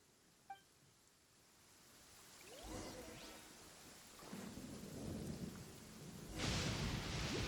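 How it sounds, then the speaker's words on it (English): Thunderstorm in the video game Genshin Impact: a distant rumble of thunder builds into steady rain hissing on surfaces, with a louder crack of thunder and heavier downpour toward the end, no voices. "Uh-oh! Lightning storm!"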